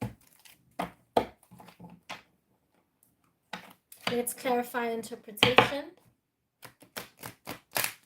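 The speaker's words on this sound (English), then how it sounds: "I don't know why my deck is so slippery today. I'm gonna have to reshuffle." A deck of tarot cards is shuffled by hand in short papery riffles and taps, close and crisp, with a longer flurry of shuffling midway and a person speaking briefly.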